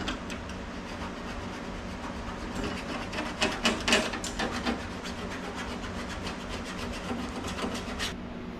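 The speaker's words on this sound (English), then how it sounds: "This pick tool, we'll scribe a line in there." A pick tool scrapes steadily along a custom car dash, a continuous close rasping with a few sharper scratches midway, no talking.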